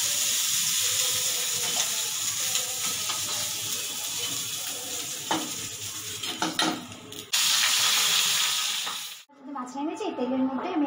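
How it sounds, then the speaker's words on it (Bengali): Fenugreek and cumin seeds sizzling in hot oil after fish frying, a loud continuous hissing sizzle that cuts off abruptly near the end, followed by quieter kitchen sounds. "তেলের মধ্যে আমি এখন একটু মেথি ফোড়ন, একটু সাদা জিরে ফোড়ন দিয়ে দিলাম।"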